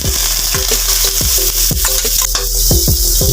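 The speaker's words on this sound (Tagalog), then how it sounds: "Simulan na po natin siyang igisa." Food sautés in a hot pan with a steady sizzle underneath, broken by a regular series of scraping stirs of the spatula, close up and with no voices.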